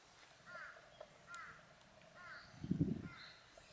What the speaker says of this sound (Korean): 근데 정말 새소리 들리고